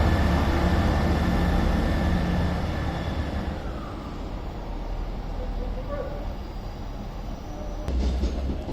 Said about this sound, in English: Departing now is the 10:54 East Midlands Railway service to Norwich via Nottingham from Liverpool Lime